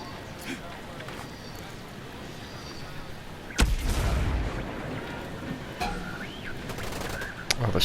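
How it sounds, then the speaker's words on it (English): Grenade explosion in Ghost Recon Breakpoint, a sudden heavy boom that rumbles on for a few seconds, set in quieter outdoor ambience with a few scattered sharp shots later. "Let's see if we can get all these guys with a grenade."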